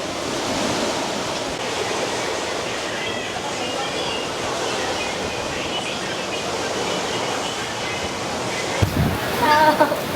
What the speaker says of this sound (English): overlooking the sea with the waves. Doesn't that sound lovely?